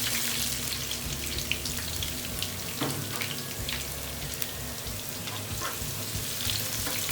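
Shallots frying in hot oil with curry leaves for a Kerala-style cabbage thoran, giving a steady close sizzle with occasional crackles and stirring scrapes, no talk.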